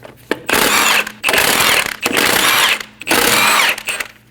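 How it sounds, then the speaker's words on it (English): An impact or power tool in a workshop backs out the front wheel lug studs of a 2012-2022 Volkswagen Passat with a 17mm socket, four loud whirring bursts with brief pauses between, close up and without talk. "Using a 17mm socket, remove the 5 lug studs."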